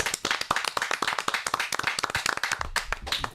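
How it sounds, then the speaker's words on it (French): A television studio audience claps steadily for a guest on a French web TV show, dense close applause throughout with a low thump near the end. "On applaudit Barbe Bleue."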